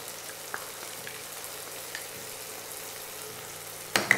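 Ginger-garlic paste frying in a pan for a potato and pea curry gives a faint, steady sizzle with a few soft ticks, then a louder scrape and crackle at the very end. No one speaks.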